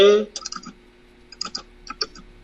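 Several computer keyboard keys are pressed for a copy shortcut, a handful of sharp, close clicks in small clusters, following a brief voice at the start.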